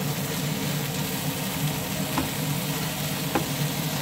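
Butter shrimp with garlic sauce frying in a pan, a constant close crackling sizzle that stays even throughout, with a few faint clinks of stirring and no talk.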